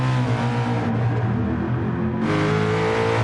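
A race car engine in the GT Sport video game revs in a loud, continuous, close drone, its pitch sagging briefly and then climbing again, with no voices over it.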